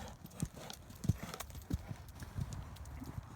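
A naturally balanced horse is ridden in a show ring, its hooves clip-clopping in a steady, evenly spaced rhythm at close range, with faint background noise and no clear talking.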